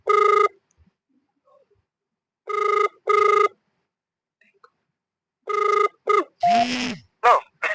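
An outgoing phone call rings out with loud, clean ringback tones in short bursts separated by silence, sometimes in pairs, followed by a brief voice at the end.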